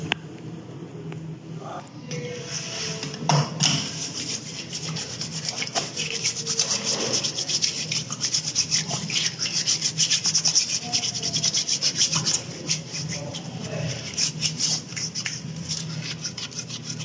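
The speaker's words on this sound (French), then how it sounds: "Sérum hydroalcoolique avant de prendre le masque." Hands rub hydroalcoholic sanitizer together before a mask is picked up in an operating theatre. The friction swishes steadily and close for many seconds, with a few louder brushing strokes and no talking.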